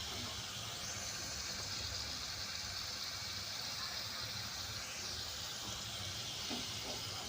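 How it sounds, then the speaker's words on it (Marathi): Garlic roasting in hot oil for a Marathi lasun bhurka, a steady, even hiss and sizzle that holds at moderate loudness throughout with no pauses or voices. "लसूण छान लाल होईस तोपर्यंत आपण भाजून घेऊया तेलात"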